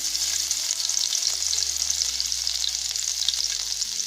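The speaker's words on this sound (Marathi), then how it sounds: "थोडस तेल थोडं का लसणाच्या पाकळ्या टाकते" Garlic cloves fry in a little oil, giving a steady, close, bright sizzle with faint background hum and no talking.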